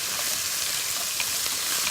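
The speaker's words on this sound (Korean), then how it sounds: "딱 넣었을 때 이렇게 지글지글. 지글지글 아주 기분 좋은 소리죠." Lotus root and burdock hit a hot pan and sizzle steadily while being stir-fried, a close, continuous frying hiss with no talking.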